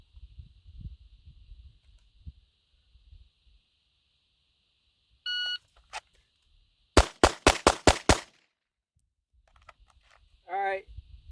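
A Glock pistol fitted with a Taran Tactical performance trigger fires a rapid string of about six sharp, loud shots. Quiet low rumble and a few clicks come before the shots, and a brief rustle follows them.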